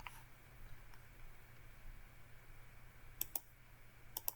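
Computer mouse clicking: a few faint, crisp clicks, a close pair followed by another pair a moment later, over a quiet low hum.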